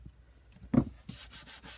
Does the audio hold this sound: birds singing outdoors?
no